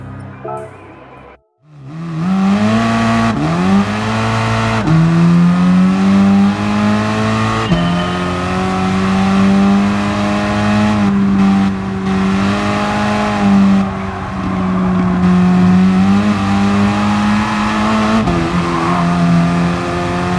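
Race car engine in Gran Turismo Sport, loud and close, revving and accelerating out of a corner in rising pitch sweeps with gear changes, holding a steady high drone for about twenty seconds.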